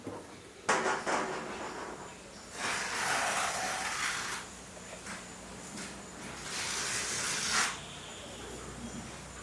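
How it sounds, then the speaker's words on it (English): A hot knife sizzles and hisses through synthetic rope while sealing it for a soft shackle, with two or three separate hissing passes of a few seconds each between quieter pauses, close and fairly soft. "the hot knife"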